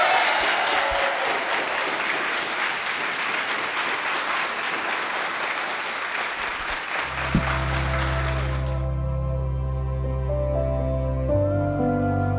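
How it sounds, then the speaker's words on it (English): Applause from a wedding ceremony audience at a Cancun resort, steady and dense for about nine seconds, then cut off abruptly as sustained organ-like music tones take over. "Can I hear applause for everyone?"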